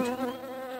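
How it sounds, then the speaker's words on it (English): Cartoon fly gives a steady, close, nasal buzz with a tonal drone throughout the brief moment. "Hello, Buzz. I like your name. I like your sound"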